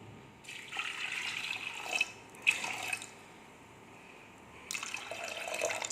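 Water runs in short bursts into a bowl of washed lentils in a home kitchen, a quiet splashing trickle that starts, pauses, then resumes, with no voices.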